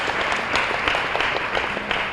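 Steady applause from a crowd, dense clapping that holds at an even level throughout without any voices on top.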